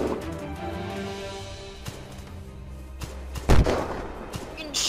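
Gunfire in the video game Unturned, during a military base siege, crackles and thumps in scattered bursts over a low rumbling background, with one louder close shot near the end.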